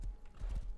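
A quick run of horse hoof clip-clops in the video game Rust, several hollow thuds in a steady trotting rhythm, short and close.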